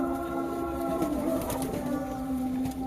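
A flock of pigeons in a crowded home loft, with black-marked fantail-type birds among them, coos in a soft, continuous low murmur close by, steady throughout with no talk.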